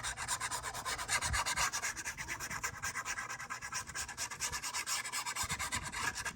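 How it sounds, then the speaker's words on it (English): Scrapbook paper pocket being burnished flat by hand, a quiet, steady rubbing scrape in rhythmic back-and-forth strokes with no talking. "We're just going to burnish it and butt it up to the edge of our middle one."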